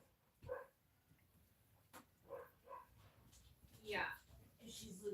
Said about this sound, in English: Wait, That's our dog.